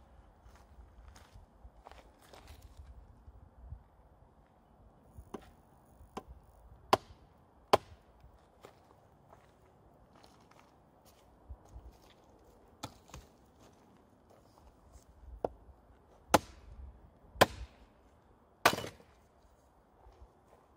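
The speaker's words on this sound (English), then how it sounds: "I will use the hard plastic head and a steel splitting wedge" Hard plastic head of a HALDER Simplex hammer striking a steel splitting wedge driven into a twisted hardwood log, sharp isolated knocks spaced several seconds apart, some louder than others, with faint shuffling between blows and no talk.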